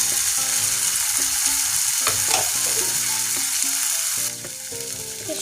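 Paste of ginger, garlic, chili and tomato frying with browned onions for a coriander fish curry, a continuous close sizzle with scraping stirs, while music plays along underneath.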